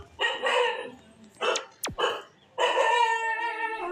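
Dog barking in a Roblox video game, several short sharp barks in quick bursts with brief gaps and a quick sweeping whoosh between them, loud and close.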